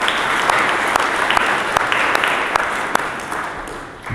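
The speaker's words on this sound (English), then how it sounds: "Round of applause for Janice." A crowd at a Manitoba government immigration announcement claps for a city councillor seated at the back. The applause is loud, steady and close, with a few sharp individual claps standing out in the dense sound and no voices over it.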